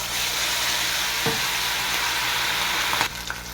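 Chili chops sizzling in hot oil in a wok, a loud continuous close-up hiss with a brief clunk near the end as the sound drops away.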